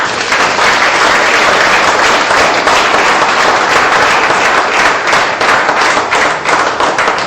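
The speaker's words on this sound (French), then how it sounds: "Je voudrais que ce soit applaudi chaleureusement." Warm, sustained applause from a seated audience at a training session for professional leaders, dense clapping filling the room steadily from start to finish with no speech over it.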